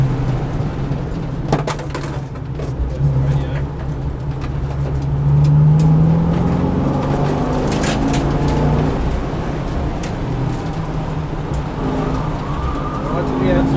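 A V8 Supercar engine driving on a race track, a loud continuous roar with rising and falling revs, heard from inside the car under a coach's spoken instructions.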